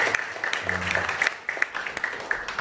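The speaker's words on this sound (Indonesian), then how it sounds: "Tepuk tangan buat Tuhan Yesus dulu." A church congregation applauds during a worship service, a steady wash of clapping with some voices mixed in, moderately loud throughout.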